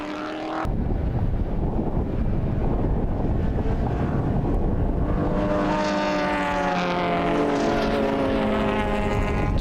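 Mini Cooper S race cars battling closely on a circuit at a sporting car club race day, engines snarling and rising in pitch as they pass, loud and continuous with shifting tones as several cars rush by.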